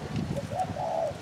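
Spotted dove used as a hunting decoy, giving a brief soft coo of a couple of low notes over quiet outdoor background.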